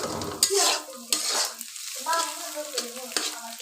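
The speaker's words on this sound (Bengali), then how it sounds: "নুডলস রান্না করতে গেলে ডিমটা কিন্তু নেড়ে চেড়ে করতে হবে" Egg fries in a pan for noodles while a spatula stirs it, sharp scraping clacks against the metal recurring several times over a soft background sizzle, close and fairly loud, no voices.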